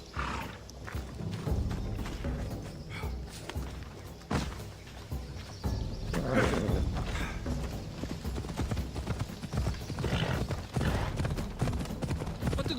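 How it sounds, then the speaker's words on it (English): Horse hooves clip-clopping during horseback riding in the video game Assassin's Creed Odyssey, a rhythmic run of hoofbeats mixed with game ambience and rumbling effects, fairly loud and continuous. "This would be faster on horseback."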